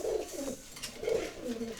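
Pigeons coo in two rounded, rolling bouts, fairly close and clear with no talking over them.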